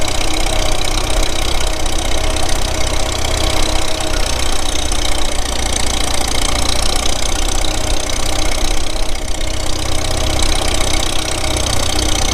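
Tractor engine idling, a steady loud mechanical rumble with a knocking mid-range chug that runs unbroken for the whole stretch, with no voices.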